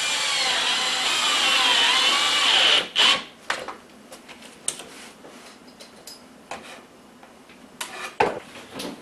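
A power drill whirs as it drives a 1-inch drywall screw while fastening a piece tight into a cabinet corner, one sustained burst for about three seconds, followed by scattered clicks and handling knocks.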